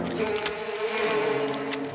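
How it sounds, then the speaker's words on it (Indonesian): A continuous, loud, low-pitched buzz of a giant bee, steady and close, hovering nearby. "seekor lebah raksasa datang menyerangnya"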